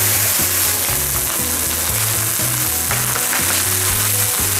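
Garlic sizzles in a hot frying pan as water is poured in, a loud, steady hiss running the whole time with a low droning layer beneath it.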